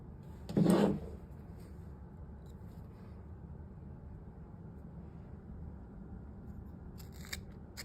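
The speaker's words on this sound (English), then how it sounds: "Now I can cut my Kevlar to size." Scissors snip once through Kevlar fibre while a rope splice is being made, a single close, crisp cut near the start followed by quiet room tone and faint handling noise.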